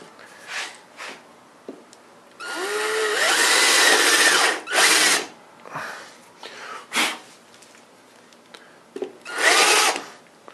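Power tool with a spinning chuck, used while sculpting clay for a prosthetic mold, whirring in several close bursts, one sustained and others short, with quiet pauses between.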